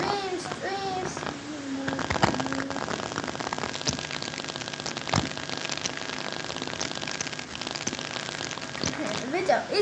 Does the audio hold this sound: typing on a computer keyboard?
no